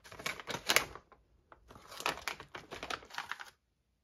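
A 4.5-ounce bag of Alien Snackers dog treats being torn and opened, a close, loud run of crinkly rustling bursts with a brief pause in the middle before more rustling.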